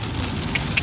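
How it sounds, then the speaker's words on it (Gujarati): Heavy rain pours down in a village during a downpour, a brief dense patter of drops on surfaces with a couple of sharper splashes near the end. "મેં વ્લોગ ચાલુ કર્યો ને વરસાદ દેવા માંડ્યો"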